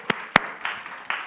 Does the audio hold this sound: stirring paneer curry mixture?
no